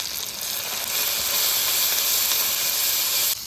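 Salt and turmeric with spices sautéing in a hot pan for a fish curry, giving a steady, close hiss and sizzle that rises slightly after the first second and drops near the end, with no talking.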